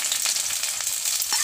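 Onion and garlic fry in a pan with a continuous close sizzle and crackle, and a few small stirring clicks run through it.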